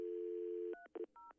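A steady telephone dial tone cuts off and gives way to a few short keypad touch tones, separate beeps pressed in quick succession, fairly faint with no talk over them.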